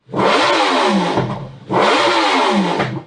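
A Yamaha R1S sport motorcycle engine revs hard twice, each burst rising sharply in pitch with a loud, raspy howl before dropping off, close and alone.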